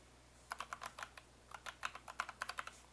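A computer keyboard is typed on in two quick bursts, crisp clicking keystrokes heard close and alone, entering a username and password on a chatroom login page.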